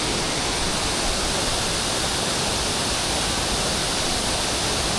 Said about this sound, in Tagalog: Ang ganda ng Tagbibinta Falls.